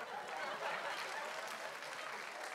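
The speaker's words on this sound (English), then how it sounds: "Give yourself a round of applause." A comedy show audience in New Jersey breaks into applause, a soft, continuous patter of many hands clapping at a moderate distance, with a few faint chuckles mixed in.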